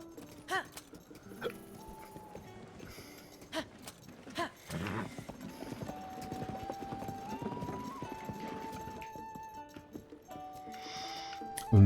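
Horse hooves clip-clopping in the video game Zelda: Tears of the Kingdom, a steady trotting rhythm at moderate level over game music, with a short whinny near the start and occasional in-game effects.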